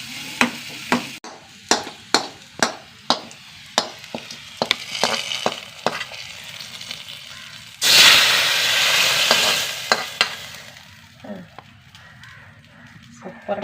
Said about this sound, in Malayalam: ഉള്ളി ഒന്ന് മൂത്ത് വരട്ടെ.